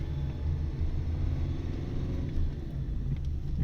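A car pulling away during a driving test on the Dalyan road in Çeşme, with a low, steady engine rumble heard from inside the cabin, fairly close and unbroken, and no talking.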